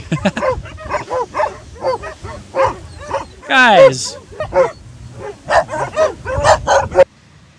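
Several dogs in an animal shelter bark and yip over one another in a noisy chorus, some close and loud, with a brief word spoken amid the din.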